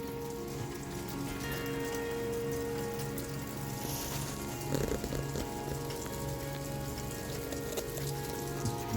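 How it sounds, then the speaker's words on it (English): Heavy rain pours steadily onto surfaces around an off-grid cabin during melting snow, a dense, constant patter close by with scattered drips, and no voices. "The snow is getting melted and it is pouring rain."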